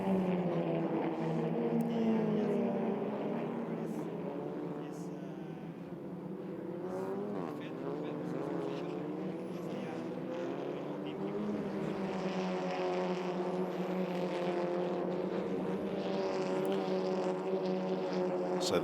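SEAT Leon Eurocup race cars from 2015 lap the Paul Ricard circuit in France, their engines a steady droning roar that rises and falls as they pass, with a commentator talking throughout.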